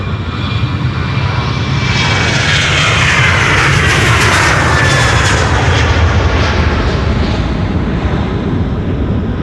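A Suparna Boeing 747 takes off from Polderbaan runway 36L at Amsterdam Schiphol, its engines a loud, sustained roar with a shifting whine sweeping through as the jet passes.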